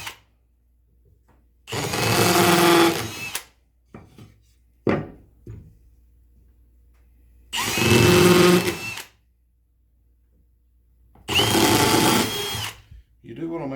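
A power drill drives screws into a wooden birdhouse in three loud bursts, each about one to two seconds long, with short quieter pauses and brief handling clatter between them; no one speaks.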